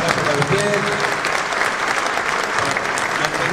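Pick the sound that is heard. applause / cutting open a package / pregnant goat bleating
applause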